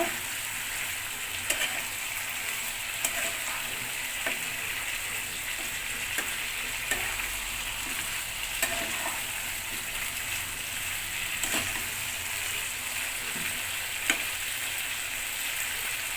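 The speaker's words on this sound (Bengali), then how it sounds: "আলু কাটা গ্রেভির সাথে মিশিয়ে দিব।" Cut potatoes are stirred into a sizzling yogurt chicken gravy, giving a constant rain-like fry hiss with occasional sharp ticks and scrapes of the spoon in the pot.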